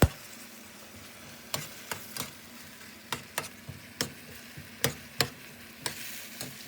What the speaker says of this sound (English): Move your mushrooms and onions around a bit